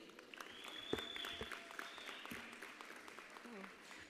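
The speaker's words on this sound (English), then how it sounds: "A big round of applause as he takes the stage." Applause from a graduation ceremony audience as a speaker takes the stage, a steady broadband patter of many hands clapping at moderate distance, with faint voices mixed in throughout.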